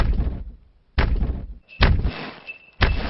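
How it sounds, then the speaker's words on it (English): Loud banging on a house roof in a Peppa Pig cartoon, four heavy booming thumps spaced roughly a second apart, each ringing out before the next, with no voices. "George, there's a loud banging noise coming from the roof."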